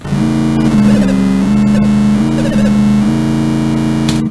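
Synthesized car engine tone from the Atari 2600 game Pole Position at maximum speed, a loud buzzy electronic drone with stepped pitch shifts, alone and ending abruptly.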